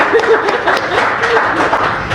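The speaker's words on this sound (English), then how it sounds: "How about a round of applause for Lucy Bartholomew?" Studio audience applause for ultrarunner Lucy Bartholomew, a steady dense patter of clapping with faint voices mixed in, moderately loud throughout.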